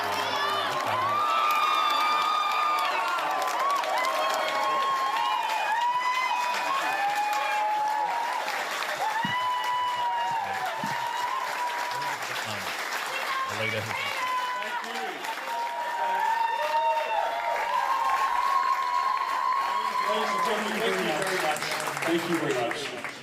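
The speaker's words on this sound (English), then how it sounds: "here comes Peter Dutton moving in through the crowd" A crowd at an Australian election-night Liberal Party event cheers, whoops and applauds steadily as Peter Dutton arrives, with shouts rising above sustained clapping throughout.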